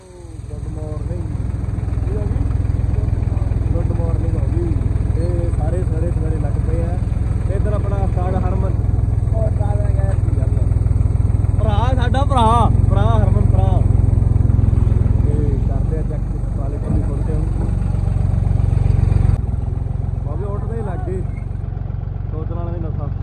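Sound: tractor engine running during testing

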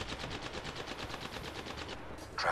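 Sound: gunfire in the video game Apex Legends

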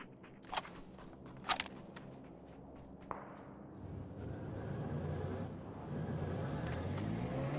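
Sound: car driving in video game PUBG

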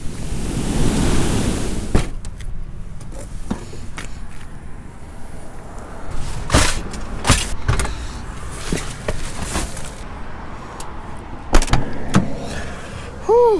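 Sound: rough ocean waves breaking on shore in rain

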